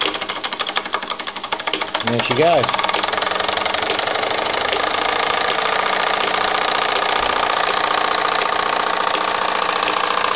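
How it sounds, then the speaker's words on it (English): A Mammoth SE3 model steam engine drives a workshop line shaft, power press, polishing mop and grinding wheels, running with a steady dense mechanical churn and rapid rhythmic beat throughout, after a brief spoken remark at the start. "Today we're going to run the Mammoth SE3 driving the workshop."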